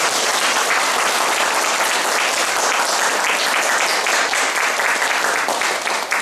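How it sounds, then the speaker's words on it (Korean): A large lecture audience gives the speaker a dense, sustained round of applause, loud and close, with steady clapping and no pauses, and no talking over it. "다시 한번 큰 박수."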